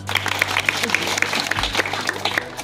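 A school audience at a village magic show breaks into scattered, uneven clapping that builds briefly, mixed with someone speaking loudly over the applause.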